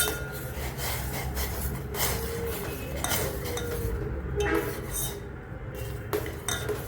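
Tea with milk is stirred in a pot, giving repeated scraping and clinking of a utensil against metal, close and irregular, with no voices.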